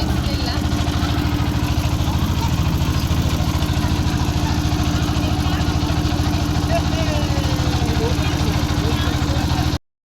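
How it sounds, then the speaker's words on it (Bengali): A trawler boat's engine chugs loudly and close with an even, rapid throbbing rhythm, then cuts off abruptly at the end. "আমাদের ট্রলারটা চলা শুরু করেছে"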